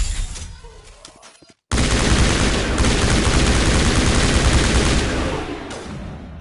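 Heavy automatic gunfire in the Mass Effect 1 game, a loud sustained fusillade that breaks in after a brief quiet and rattles continuously for several seconds before tapering.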